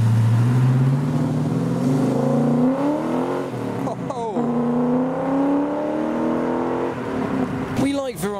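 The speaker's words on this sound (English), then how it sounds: "I've been waiting for this one, TVR Chimera 450, this is the later Series 3 with the fared in headlights." A TVR Chimera 450 Series 3 V8 pulling away from a car meet, loud and close, its engine note rising through several revving surges and gear changes before a sharp final burst, with voices talking faintly nearby.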